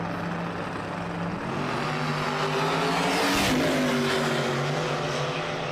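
A semi truck racing on a track, its heavy engine droning steadily with a gear change partway through and a louder surge near the middle, continuous and fairly close.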